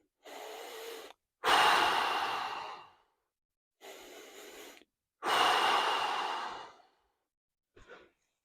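Big forceful breaths pushed out hard through the mouth during an ab exercise, about four or five loud rushing exhales with short gaps between, close and clear, the last one brief and faint.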